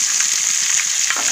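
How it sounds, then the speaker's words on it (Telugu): Mustard seeds and dal spluttering in hot oil in a pan, a dense, continuous bright sizzle with scattered small pops, close and fairly loud, with no voices. "పప్పు దినుసులు వేసుకుంటున్నా, చిట్పట్లు ఆడుతున్నా కదా"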